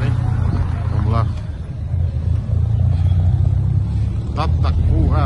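Cars roll past on a busy street in Ciudad del Este, Paraguay, a steady low engine rumble with a couple of louder passes, while people talk over the traffic.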